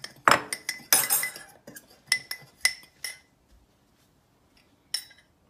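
A metal fork clinks against a mug while mixing microwave mug pizza batter, a cluster of bright irregular taps and scrapes up close, then a pause and one final clink.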